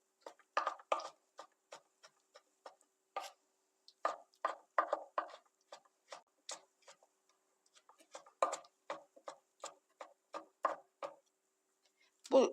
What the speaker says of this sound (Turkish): Şimdi pişmiş domateslerimizi yine küp küp doğruyoruz